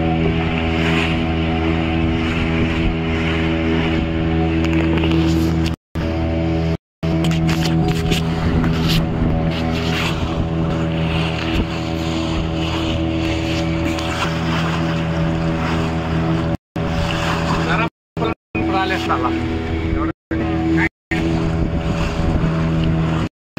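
A motorboat carrying passengers runs steadily on the water off Malvan, its engine a constant loud drone with wind buffeting the microphone and brief dropouts throughout.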